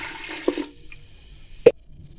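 About 1.5 litres of water is poured into a pot of rice while making sweet jaggery rice: a short, close gush and splash lasts under a second, followed by a quiet pause and a single sharp knock.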